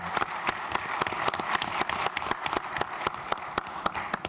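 Audience at the ICANN 45 meeting in Toronto claps steadily, a moderately quiet wash of distinct hand claps from a large room with no talk over it.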